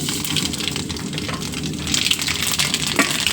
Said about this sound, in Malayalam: ഇനി നമുക്ക് ഇതിലേക്ക് കടുക് ഇട്ട് കൊടുക്കാം.